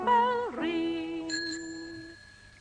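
A bicycle bell on a child's bike rings once with a clear, bright, sustained tone that slowly fades, heard on its own after a brief passage of music.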